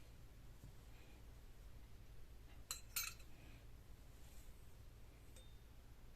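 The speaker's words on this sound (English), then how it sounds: "Alright, so I'm just going to start sliding everything off." Seals, washer and bushings being slid off a Suzuki DR650 fork tube, a quiet scene with a couple of brief metallic clinks and faint scraping in the middle.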